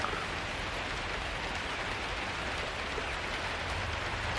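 Soft, steady patter of light, cool summer rain falling outdoors, an even hiss with no voices.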